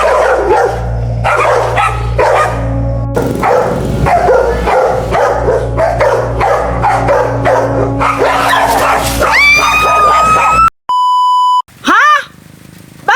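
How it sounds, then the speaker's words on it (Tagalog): Several dogs bark, yip and whimper excitedly as they chase someone, loud and close in rapid overlapping bursts, followed near the end by a few electronic beeps and a rising whistle-like tone. "Sigurado, habulin siya ng mga aso."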